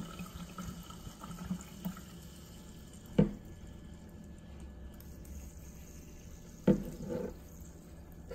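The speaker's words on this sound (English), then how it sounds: "Let's pour some water in." Jermuk sparkling mineral water poured into a container: a soft liquid trickle with two sharp clinks against the vessel, quiet and close, without speech.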